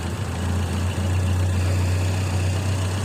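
A CNG-fuelled car engine idling steadily with a deep, constant hum, loud and close, running lean after a reducer adjustment; no voices over it.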